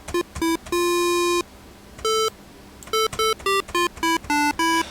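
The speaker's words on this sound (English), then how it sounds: "We have a bell tone." Bell tone from a Cherry Audio Surrealistic MG-1 synthesizer plays a sequence of short, bright, harmonic-rich notes, one held longer early on, then quick repeated stabs, loud and clean with no voice.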